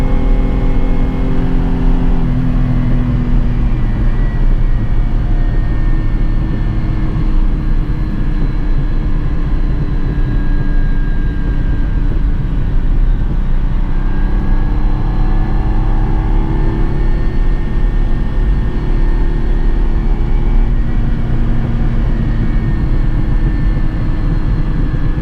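A low-mileage Dino's engine drones loud and steady from inside the moving car, a continuous rumble with rising and falling revs as it drives.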